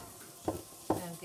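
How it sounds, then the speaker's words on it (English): Food hisses and sizzles in a very hot frying pan with a little water, close by, with two brief stirring scrapes standing out over the steady frying. "I always like to get the frying pan super hot with a little bit of water"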